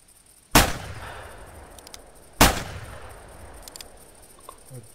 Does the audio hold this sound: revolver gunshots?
yes